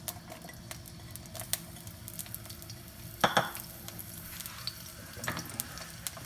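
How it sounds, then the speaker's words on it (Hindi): Onions sizzle in two to three tablespoons of hot cooking oil, a faint steady crackle close by with a few soft stirring clinks. "और अब हम इसको थोड़ा सा गरम करेंगे और फिर इसमें डालेंगे प्याज।"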